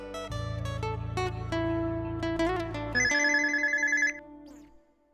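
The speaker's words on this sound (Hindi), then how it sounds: "चचू आपका फोन।" A telephone rings with a steady repeating electronic tone, loud and close, then switches to a higher bright chime before cutting off.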